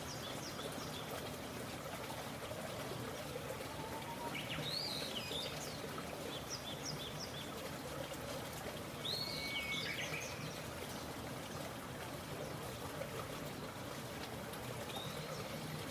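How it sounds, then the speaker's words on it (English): Running water from a maintenance crew hosing down outdoor common areas, a steady distant trickling wash throughout, with occasional bird chirps above it. "The sound of running water and the movement of the workers caught his attention"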